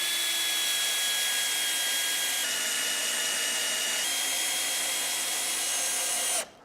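A power driver runs continuously, driving a 150mm screw into a fence to fix a metal plate; a steady high whine holds for about six seconds, shifting pitch slightly partway through, then cuts off abruptly.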